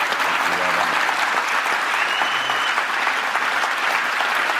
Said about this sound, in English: Please just give a huge round of applause.